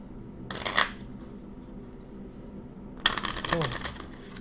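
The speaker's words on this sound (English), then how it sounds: "I think I'm over shuffling" Trading cards for the Vs System card game are riffle-shuffled in two quick, crisp bursts separated by a quiet pause. The second flurry is longer, with a rapid fluttering patter close up.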